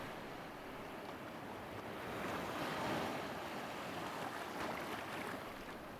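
Incoming tide waves wash over low coastal rocks at a spotted seal haul-out in the DMZ, a steady broadband surge of surf with wind, swelling slightly in the middle and continuing throughout with no voices.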